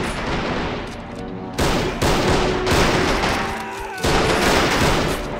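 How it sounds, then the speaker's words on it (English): Rapid gunfire exchange in the war strategy game Army Men of War, with dense bursts of machine-gun and rifle shots in loud clustered volleys separated by brief lulls. "Just exchanging fire with each other"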